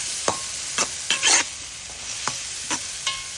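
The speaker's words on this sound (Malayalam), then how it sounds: "സോയ ചങ്ക്സ് ആണ് കേട്ടോ നേരത്തെ കുതിർത്തിയൊക്കെ റെഡിയാക്കി വെച്ചതാണ് അപ്പോൾ ഇതും കൂടെ നമുക്ക് ഇതിലേക്ക് ഇടാം കേട്ടോ നല്ലോണം ഇളക്കി കൊടുക്കും" Soaked soya chunks stirred in a pan for a sadya-style dish: light sizzling under a series of about seven sharp spatula scrapes and clinks against the pan, irregularly spaced, close and fairly quiet.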